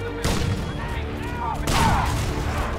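Light machine gun fire in the shooter game Crysis 2, a dense steady burst of gunshots rolling on for nearly three seconds with a louder surge partway through.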